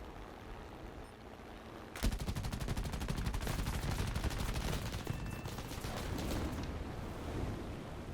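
Eight M2 Browning machine guns on a P-47D-25 fire in a War Thunder air battle, a sudden sustained rattling burst of several seconds over a steady engine and wind roar.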